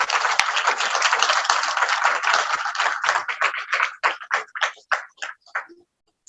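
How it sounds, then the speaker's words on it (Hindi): Audience applause at a spiritual talk, steady loud clapping from a crowd that breaks into sparse separate claps and stops near the end. "तालियों के साथ"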